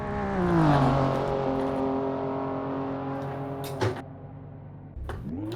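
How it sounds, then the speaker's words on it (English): A BMW M4 G82 engine in the Assetto Corsa racing game rises and falls in pitch, then holds a steady drone with gear-shift dips, continuous and fairly loud with brief clunks near the end. "that M4 sounds so realistic"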